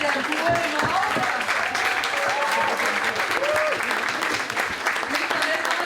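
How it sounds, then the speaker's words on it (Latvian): Audience applause for a conductor and choir at the premiere of a musical, steady dense clapping throughout, with a voice speaking over it. "Un lielākie aplausi diriģentam Edgaram Grītolam un viņa vadītājam Korim Alpā!"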